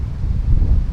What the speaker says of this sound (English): I hope you can hear me alright over the wind noise.